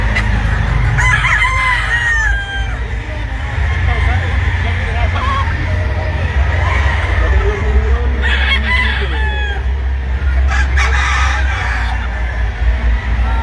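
A blue face hatch chicken pullet at a poultry expo crows and clucks repeatedly over a loud, busy crowd background, while people talk nearby throughout.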